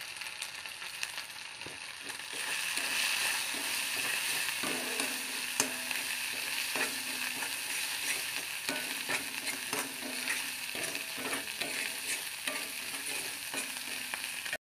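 Steady, dense sizzle of a ginger, garlic and mustard paste with a little turmeric frying in mustard oil, with light stirring scrapes throughout and no talk.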